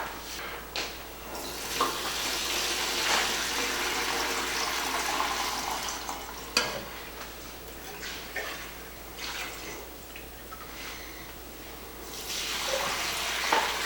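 Hot rendered leaf lard pours through a metal strainer, a soft trickling, pattering flow with occasional clinks and scrapes of metal, fairly quiet and close, with no one speaking.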